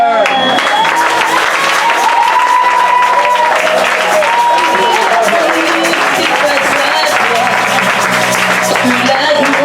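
Loud, sustained applause from a large church congregation filling the room, with cheering and voices mixed in throughout.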